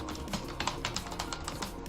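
Typing on a computer keyboard while entering 3D text in Blender, a quick run of light, uneven key clicks at close range with no talk.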